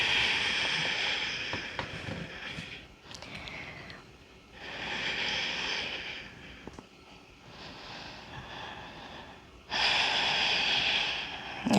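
Slow, audible breaths during a yoga sequence, long airy inhales and exhales that swell and fade in a few separate waves, close to the microphone, with no speech.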